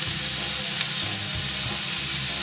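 Chili and meatballs stir-fry in a hot pan, giving a steady close sizzle and hiss with faint scraping of stirring throughout.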